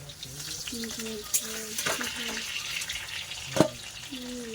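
Small potato pieces frying in hot oil in a home kitchen, a steady soft sizzle with a few clinks and stirring noises, with speech heard faintly in the background.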